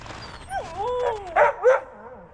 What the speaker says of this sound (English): whiny little dogs